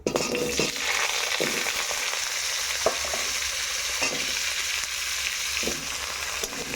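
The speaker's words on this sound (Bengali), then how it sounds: "আলুটা দিলাম, আলুটা একটু ভাজবো।" Potatoes fry in hot oil in a wok with a steady, close sizzle, punctuated by repeated scraping and stirring strokes of a spatula, with no talk.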